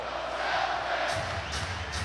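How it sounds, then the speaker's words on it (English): Crowd noise from a basketball arena at the 2010 NBA Finals between the Celtics and Lakers, a steady roar of cheering that swells slightly, with faint voices mixed in. "Crowd on its feet."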